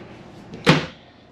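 A solid interior door inside a 2021 Cedar Creek Champagne 38 ERD luxury fifth-wheel RV swinging shut, one short firm thud with a slight rattle, close by, no speech.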